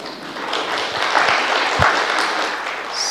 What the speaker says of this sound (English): So can we give them a hearty round of applause?